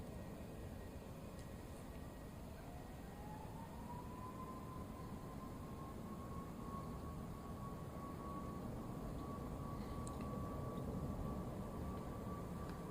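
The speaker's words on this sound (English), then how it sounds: "Aer Lingus A330 from Tenerife, just about to touch down." An Aer Lingus Airbus A330 from Tenerife approaches to land at Dublin Airport, a distant, steady jet whine rising slowly in pitch then holding over a continuous broadband roar.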